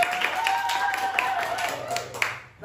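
Several people clap in a brief round of applause, rapid and moderately loud, fading out at the end.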